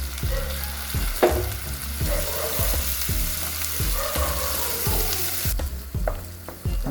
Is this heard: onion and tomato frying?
yes